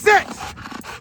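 A young dog, about a year old, gives a brief loud vocal burst at the start, followed by softer breathy panting-like sounds nearby, with people around calling commands.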